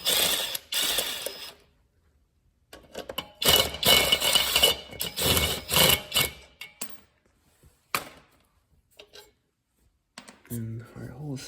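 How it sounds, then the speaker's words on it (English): A ratchet wrench loosening two bolts on the rear brake caliper of a 1983 Suzuki GS850G motorcycle. It gives bursts of rapid clicking, separated by pauses and short handling noises, close and fairly loud. "Next we'll take off these 2 bolts."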